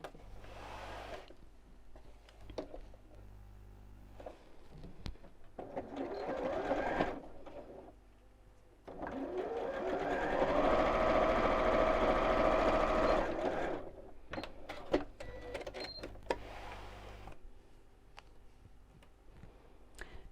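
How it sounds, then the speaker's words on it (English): A sewing machine runs a short seam about three inches long across the bottom of a fabric dog treat bag, with a steady close whirring burst in the middle, bracketed by quieter handling of the fabric and pins. "I'm just going to stick a pin in there and sew about 3 inches across the bottom"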